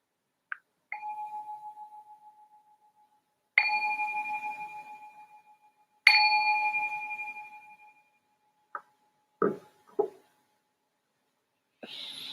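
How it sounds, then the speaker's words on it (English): A meditation bell is struck several times, each clear tone ringing out and slowly fading in a quiet room, followed by a few soft knocks and rustles. "I'm going to ring this bell to signal the start of the meditation"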